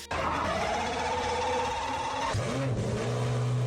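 A Pagani supercar in the Roblox game Vehicle Legends drives along with a steady synthetic engine drone. It shifts to a new, rising tone partway through and then holds a lower steady pitch.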